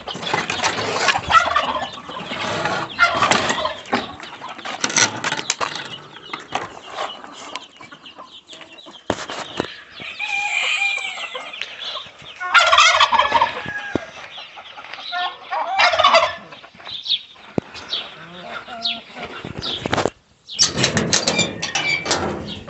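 A turkey gobbles repeatedly in a garage among chickens and brooding hens, with clucking and squawks in loud, irregular bursts close by.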